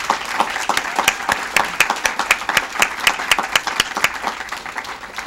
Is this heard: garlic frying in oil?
no